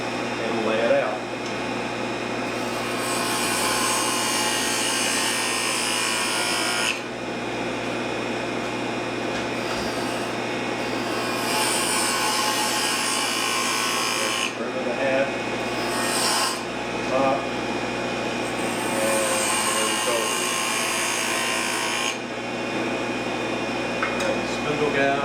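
A parting tool scrapes and cuts into a wooden goblet spinning on a lathe, giving long raspy bursts of cutting broken by brief pauses over the steady hum of the motor.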